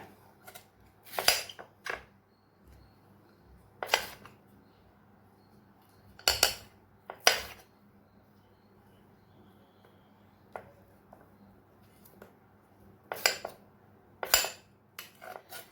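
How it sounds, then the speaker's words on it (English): A knife chops cucumber on a board in sharp, separate clusters of quick cuts with pauses between them, close and clear with no talk. "first cucumber chop చేసుకోవాలి"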